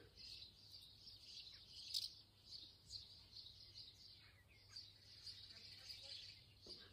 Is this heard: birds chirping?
yes